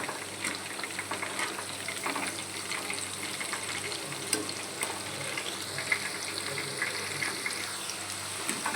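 Chicken pakodi pieces deep frying in hot oil, a dense continuous bubbling sizzle held at an even level throughout, with faint occasional clinks and stirring.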